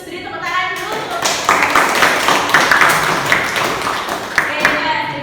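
A group claps hands in a steady, dense round of applause that stays loud and close for about five seconds, with voices faintly mixed in.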